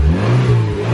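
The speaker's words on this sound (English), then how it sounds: "Whew, it revs really sensitive" A Ford Ka's engine revs briefly and sharply up close, a quick throttle blip that rises and settles within a second.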